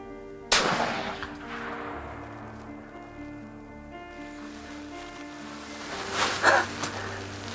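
A single sharp rifle shot cracks out near and loud during a whitetail deer hunt in Oklahoma, followed by quiet outdoor ambience with a fainter disturbance later.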